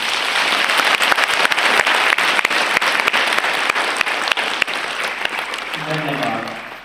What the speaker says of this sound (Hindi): अब हम अपनी खुशी प्रकट करने के लिए हम तालियां बजाएंगे।